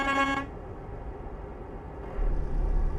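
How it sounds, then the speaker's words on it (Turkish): A short car-horn honk opens, then a low engine rumble as traffic rolls past in Euro Truck Simulator 2, the drone swelling louder near the end. "Gelmeye başladı arabalar."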